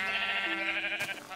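Sheep bleating in the video game Minecraft, one short wavering baa heard up close and fairly clear, ending with a brief sharp noise.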